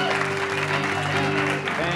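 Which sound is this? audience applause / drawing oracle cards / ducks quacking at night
audience applause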